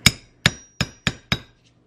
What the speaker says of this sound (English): So you hammer this like that